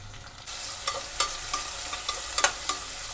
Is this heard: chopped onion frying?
yes